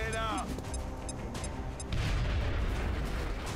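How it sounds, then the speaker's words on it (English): A grenade blast in the turn-based strategy game XCOM Long War, a heavy booming explosion that rises after a short series of quieter clicks and tones, with low rumble lingering to the end. "just throw a grenade"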